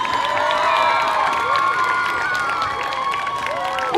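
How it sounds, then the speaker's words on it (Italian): A large open-air crowd in a city piazza applauds and cheers, with whoops and high shouts rising over dense clapping throughout; the roar stays loud and continuous. "fatevi un grande applauso"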